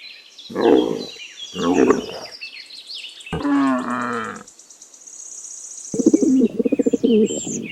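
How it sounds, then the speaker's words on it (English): A pigeon gives several low, throaty coos in short separated bursts, close and fairly loud, with faint chirping birds in the background. "Pigeon."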